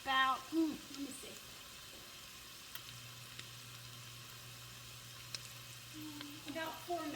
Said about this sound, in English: You mix it, stir it, and then you put your cover on for about, let me see.